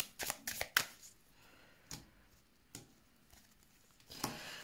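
Tarot cards are shuffled close by in quick riffling bursts with pauses between, a soft papery patter that returns several times.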